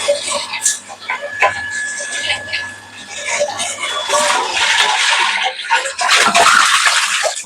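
Water gushing and splashing out while a water heater tank is rinsed, an uneven rushing flow with spatters and surges that grows louder toward the end, with a person talking intermittently.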